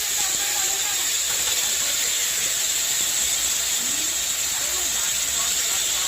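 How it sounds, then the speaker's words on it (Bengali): Chopped onion frying in hot oil for a vegetable paratha filling, a steady bright hiss running evenly throughout, close and constant, with no distinct pops. "তো এরপর তেলটা গরম হলে আমি ছেড়ে দিচ্ছি পেঁয়াজ কুচি।"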